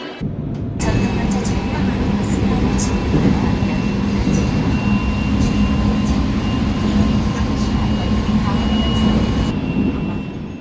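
A Seoul train arrives at the station, rumbling loudly and steadily nearby, with a deep continuous roar and faint tonal whines from the rails, filling the whole stretch.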